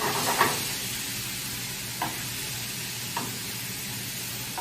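Peppers and onions frying in a pan for spicy chicken meatballs in cream sauce, producing a steady close hiss of sizzling with a few soft stirring knocks.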